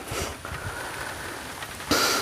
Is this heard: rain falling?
yes